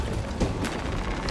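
An explosion in the video game Warhammer 40K Space Marine II, a short dull boom amid rumbling game noise, with a few quick crashing bursts following over about a second.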